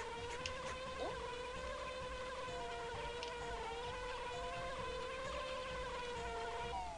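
A bee buzzes in the Banjo-Kazooie video game, a steady high whine wavering in pitch for the full stretch, moderately loud over a soft background bed without voices.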